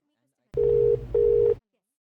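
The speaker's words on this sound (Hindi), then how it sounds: "वो आपका रिंग शायद एक्सचेंज में जा रहा है" A telephone ringback tone, the call ringing through to the exchange: two steady, loud buzzing bursts with a short gap between them, each with a low hum beneath, and silence before and after.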